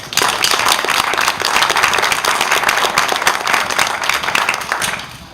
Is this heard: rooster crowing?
no